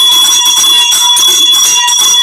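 A bright, sustained electronic bell rings continuously with steady tones, loud and alone.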